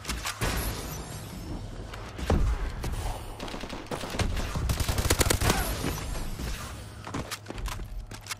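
Gunfire crackles through a shooter video game, with bursts of rapid shots, thuds and scattered impacts coming close together over several seconds.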